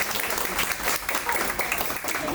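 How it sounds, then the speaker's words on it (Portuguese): An audience at a public hearing gives a round of applause, dense clapping filling the room at an even, fairly loud level, with a voice faintly underneath. "Uma salva de palmas."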